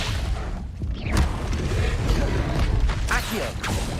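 A spell-casting effect from the video game Hogwarts Legacy: a dense magical whoosh with booming, crashing low end that stays loud throughout the short burst, mixed with other game sounds.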